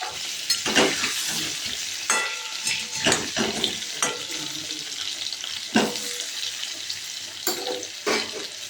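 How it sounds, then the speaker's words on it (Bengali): Potatoes frying in hot oil for a mutton curry, with whole garam masala dropped in to temper; a steady sizzle runs throughout, punctuated by sharp stirring clatters and splashy bursts, close and fairly loud. "আলুগুলো ভেজে তুলে রেখে ওই তেলের মধ্যে গোটা গরম মশলা দিয়ে দেবো ফোড়নে"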